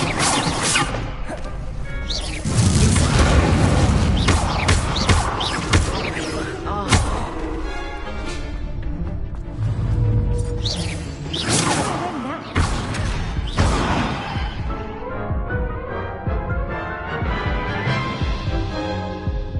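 The Incendio fire spell is cast again and again in the video game Hogwarts Legacy. Loud whooshing bursts and crashing impacts are set over music, with a voice calling out between the blasts.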